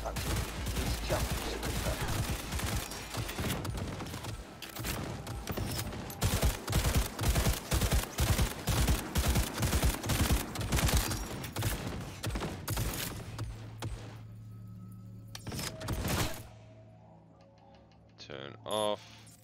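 Automated gunfire in Cyberpunk 2077 bursts out in rapid, loud volleys aimed at the player, dense for about twelve seconds before tapering into scattered shots and a low hum, with talk in between.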